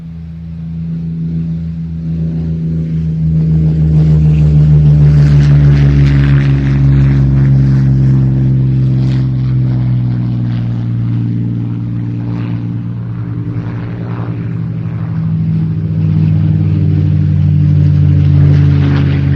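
A Mustang fighter with a Packard-built Rolls-Royce Merlin engine drones loudly and steadily at an airshow, its deep harmonic engine note shifting slightly in pitch as the aircraft passes, with no voices.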